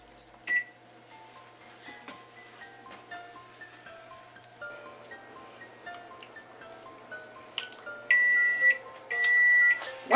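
An oven timer gives a few loud electronic beeps near the end, after soft scattered kitchen tones and clicks.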